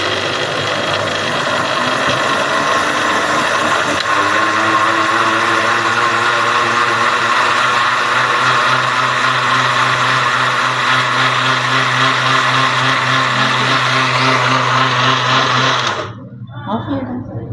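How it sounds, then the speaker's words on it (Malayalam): A kitchen mixer grinder blends beetroot, milk, sugar and cardamom for juice, whirring loudly and steadily with a low motor hum for about sixteen seconds before switching off and winding down. "മിക്സിയിൽ വെച്ചിട്ട് നല്ലവണ്ണം അടിച്ചെടുക്കണം"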